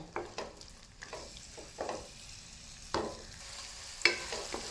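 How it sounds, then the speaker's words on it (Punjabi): Green peas for matar paneer cook in a pan with a soft, steady sizzle, broken by several scraping stirs of a spoon every second or so; no voices are heard. "ਹਰੇ ਮਟਰ ਪਾ ਕੇ ਤੁਸੀਂ ਪਹਿਲਾਂ ਕੱਲਿਆਂ ਨੂੰ ਦੋ ਤੋਂ ਤਿੰਨ ਮਿੰਟ ਇਹਨੂੰ ਪਕਾਉਣਾ ਹੈ"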